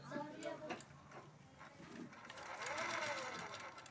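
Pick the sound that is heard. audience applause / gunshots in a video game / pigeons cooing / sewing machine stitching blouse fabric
sewing machine stitching blouse fabric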